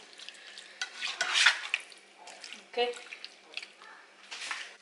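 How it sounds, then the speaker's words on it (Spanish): Chicken breast meat fries in a pan with soft intermittent sizzling and stirring scrapes, a few clinks and drips, while a person talks over it. "Vamos a dejar que se fría toda la carne muy bien"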